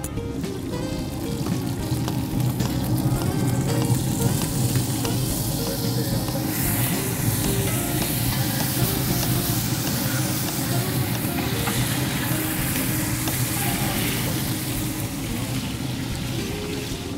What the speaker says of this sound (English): Yeah, it sizzles nicely, doesn't it?